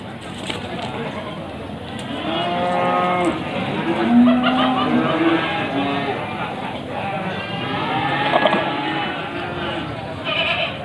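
Jawa Randu male goats and other livestock at a busy market, with repeated bleats and bellowing calls rising over a steady crowd murmur and people talking nearby.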